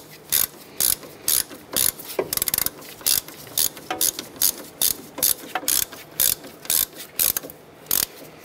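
A hand ratchet snugs down a bolt on the ABS bracket of a 2008-2012 Honda Accord during upper control arm replacement, giving a close series of sharp, regular clicking bursts, one per swing.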